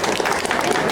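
A brief burst of audience clapping at a Japan Pop Show cosplay event in Bourges, a dense, steady patter of many hands.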